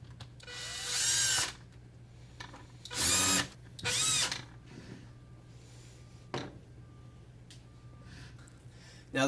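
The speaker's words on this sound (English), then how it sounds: "Feel free to use a power tool or a drill to speed up this process." A power drill drives T20 Torx housing screws on a lifter replacement, three short loud whirring bursts separated by quiet pauses, with faint clicks between them.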